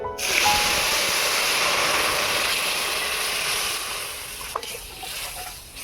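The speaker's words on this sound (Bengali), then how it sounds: "ফোড়নটাকে ভালো করে ভেজে নেব। এবারে ডালটা ঢেলে দেব।" Lentils are poured into hot spiced tempering, setting off a loud, steady sizzling hiss that slowly fades toward a softer simmer.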